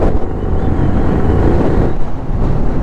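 Strong wind roars constantly across the microphone during a motorcycle ride on a road near Pollachi and Udumalaipettai. The gusting buffet is loud and unbroken, with a slight lull near the end and no speech.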